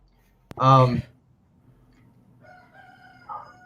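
A rooster crows once, a loud close cock-a-doodle-doo of about half a second, followed by quiet background and a faint later bird call.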